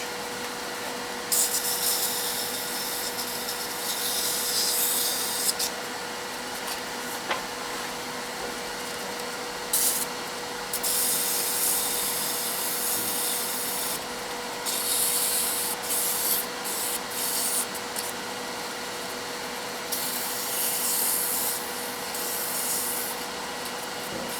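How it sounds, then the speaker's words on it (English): Sanding a wooden globe Christmas ornament, the abrasive rubbing in long steady passes with brief pauses between strokes, a faint constant hum in the background and no voices. "now I'd go back and go through and sand all of that"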